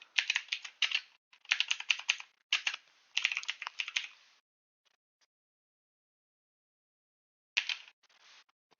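Someone types Minecraft commands on a computer keyboard, with quick close clatters in several short bursts, a long silent pause, then a final brief burst.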